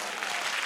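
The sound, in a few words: audience clapping loudly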